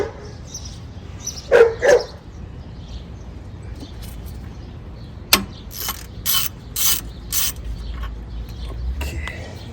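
Ratchet working loose the bolts on a thermostat housing of a 2009-2014 Ford 5.4L V8, giving a few short clicking bursts, one sharp clank, then a run of quick ratcheting spurts close by.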